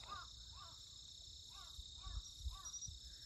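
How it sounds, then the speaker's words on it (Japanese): Crows cawing at dusk on the Hiraodai karst plateau in Fukuoka, Japan: several distant, evenly spaced caws over a steady high insect drone in the open evening air. "帰りなさいってカラスが言ってる。"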